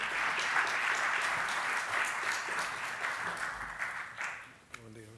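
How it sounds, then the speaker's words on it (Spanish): An audience at a church conference applauds, a broad steady wash of clapping that fades out near the end as a voice briefly begins on a microphone. "vamos a darle un aplauso al, hermano Carlos"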